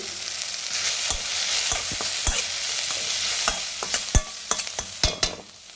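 A spoon stirs chilli rasam in a pot after ground cumin and pepper powder go in, with a soft sizzle underneath and sharp irregular clinks and scrapes growing more frequent toward the end.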